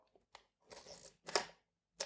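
A vintage Soviet Zenit E 35mm SLR camera made by KMZ, fitted with a Helios 44-2 lens, is handled close up, with small mechanical clicks and then a sharp, clattering shutter release.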